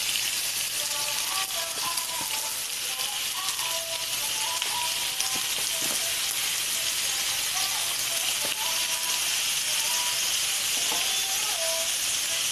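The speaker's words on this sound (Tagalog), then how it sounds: "tapos lagay na natin yung pork" Half a kilo of pork for adobo sizzles and hisses steadily in a pan, a constant close frying noise with occasional faint squeaks and clinks over it.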